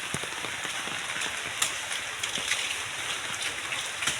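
Steady rain patters on a surface nearby, a dense continuous hiss with scattered louder drops.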